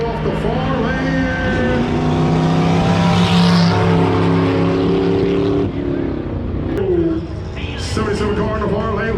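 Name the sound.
race cars drag racing at Flabob Airport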